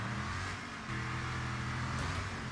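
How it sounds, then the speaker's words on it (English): Cars drive in a racing video game, with a steady engine drone that holds at an even, moderate level and rises slightly near the end; no voices. "Cars be just driving crazy in this game, man."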